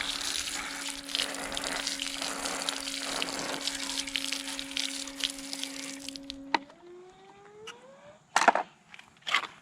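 Water sprays steadily from a hose or tap, rinsing the filter of a Dolphin robotic pool cleaner. The flow then stops with a squeaky valve sound and a few clunks.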